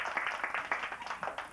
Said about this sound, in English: How about a big round of applause for my two volunteers?